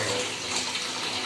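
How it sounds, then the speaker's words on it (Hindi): Tap water gushing steadily into a tub to fill a bath for a dog, a loud, continuous rushing stream with no voices. "हनी देख रहा है, देख हनी पानी भर रहा है"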